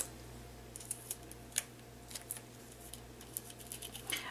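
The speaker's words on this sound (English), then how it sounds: "I'm going to tape this down." Paper being taped down during a foil quill pen craft demo, with soft, faint crackles and sharp ticks of tape being pulled and pressed, scattered irregularly over a quiet background hum.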